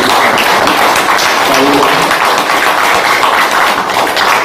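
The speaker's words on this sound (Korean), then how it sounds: "다시 한번 큰 박수로 감사해 주시겠습니다." Audience applause at a lecture hall after a special talk, a dense, steady wash of clapping that stays loud and even for the whole stretch, with no pauses.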